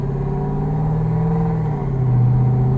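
A twin-turbo Jeep SRT drones loud and steady, its low engine and exhaust note holding a constant rumble that swells slightly near the end, with no talk over it.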